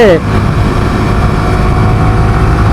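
A Suzuki GSX-R motorcycle engine drones loudly and steadily on an empty morning road, a constant low rumble with a rising whine at the start and a voice speaking briefly over it.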